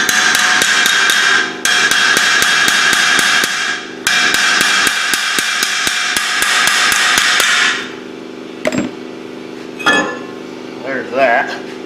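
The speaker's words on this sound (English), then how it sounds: "Take that out and I'll whack the rotor off there." Hammer blows ring out in quick, loud metallic bursts against the front brake rotor of a Chevy Camaro being knocked loose during a Brembo brake replacement, with a pause midway and a few scattered clinks and faint talk at the end.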